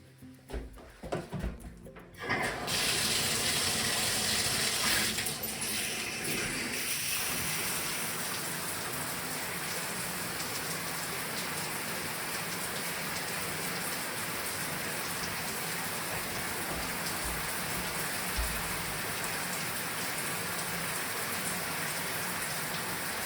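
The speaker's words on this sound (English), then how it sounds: "The last step is turn the shower on to see if any water leakage coming from the filter" Home shower running water through a newly installed Sprite shower filter, a steady broadband hiss and splatter that starts after a few clicks and continues unbroken, with no talking.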